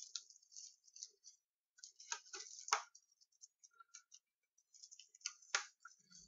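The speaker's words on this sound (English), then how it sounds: "Let's undo the plastic." Plastic wrap is peeled off a Blu-ray box in close, faint crinkles and small crackling snaps, in uneven bursts with short pauses, without voices.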